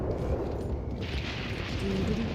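A thunderstorm in the Red Dead Online video game rumbles low and deep, with rain hiss building and brightening partway through; the storm stays steady and moderately loud, with no talk over it.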